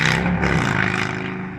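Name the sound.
motorcycle with loud pipes passing by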